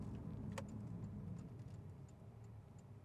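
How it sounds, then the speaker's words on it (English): Faint, regular clicking of a turn signal ticks along over a low engine hum inside a 2017 Porsche 911 Turbo, with one brief sharper click early on. "Turn signals back on."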